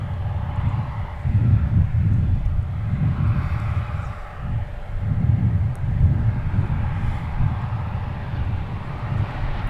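Delta A321 arriving from Salt Lake City on the runway at Minneapolis–St. Paul airport, a steady low jet roar that swells and eases over the whole stretch, mid-distance, with a faint steady hum above it.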